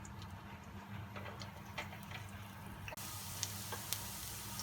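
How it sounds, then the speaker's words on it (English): Finely chopped garlic and green chili saute in hot oil in a pan, giving a faint, steady sizzle with light ticks and occasional spatula scrapes and no talk. "finely chopped garlic and finely chopped green chili. Saute it for a few minutes."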